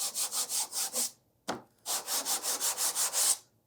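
Sandpaper strokes rhythmically across a red-primed sword prop to leave a pitted texture, about eight quick, even passes, a short pause broken by a sharp knock, then another run of close strokes.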